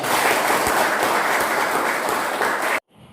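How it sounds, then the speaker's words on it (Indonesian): A classroom of high school students claps together in loud, dense applause lasting a few seconds, then stops abruptly, leaving near silence. "Berikan tepuk tangan dulu."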